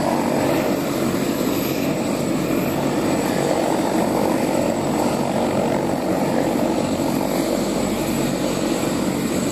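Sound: helicopter flying overhead

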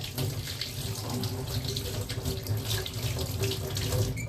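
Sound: water running from tap while washing hands

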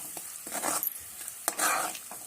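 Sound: stirring and frying masala in oil for chicken curry

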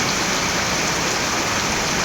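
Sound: heavy rain

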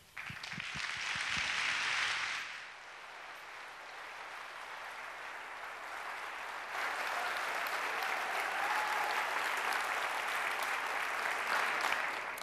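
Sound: audience applause welcoming a speaker

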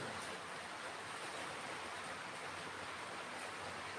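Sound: rain falling

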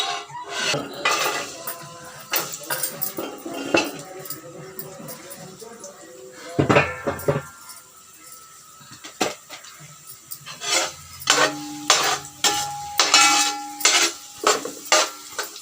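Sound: cashews frying in ghee and oil, stirred in pan

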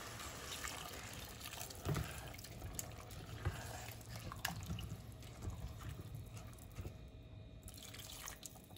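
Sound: water being poured into the pot

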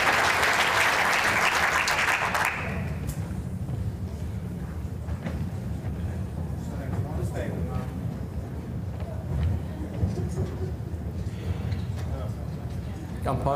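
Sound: crowd applauding at indoor bowls championship

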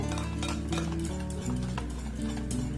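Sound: gently stirring sweet roti batter in a bowl

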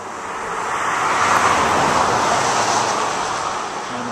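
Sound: traffic going by on the Trans-Canada highway

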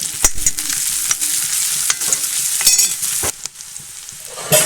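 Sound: ginger and green chili sautéing in pan for beef fry

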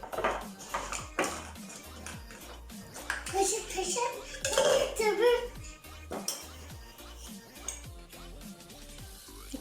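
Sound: spooning coffee into a bowl for dalgona coffee

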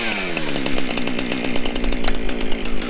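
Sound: chainsaw with 18 inch bar cutting firewood

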